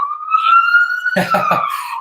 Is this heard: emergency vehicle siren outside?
yes